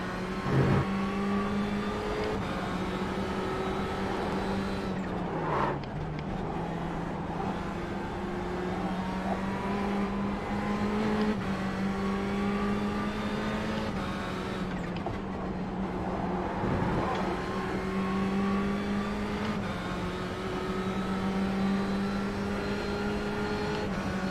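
LMP2 race car engine at Le Mans in the iRacing simulator, a continuous close engine drone rising through the gears and dropping on upshifts, repeated across the lap with no speech.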